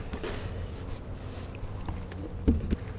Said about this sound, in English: And there's a few bees up in here,